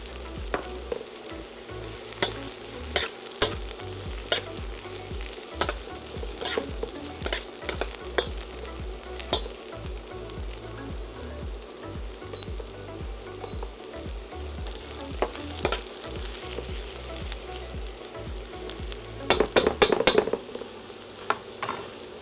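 Fresh garlic and onions sizzling in a pan with a steady frying hiss, punctuated by repeated clinks and scrapes of a utensil stirring, ending in a brief cluster of louder knocks; no talking.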